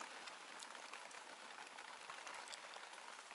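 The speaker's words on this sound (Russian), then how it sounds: "Дождь льет, не переставая." Rain pours steadily and without pause in the taiga forest during a moose hunt, a soft, even hiss of drops falling on surfaces, faint and continuous with no voices.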